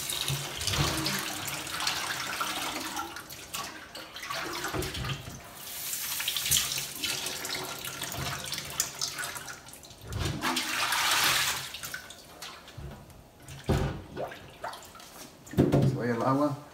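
Water runs from a kitchen tap into a sink while lemons are rinsed for menudo blanco, a broad hissing splash that swells and fades in bursts with handling clatter, a voice talking throughout.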